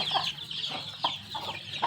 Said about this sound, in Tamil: அவ்வளோ கோழிங்க இருக்குது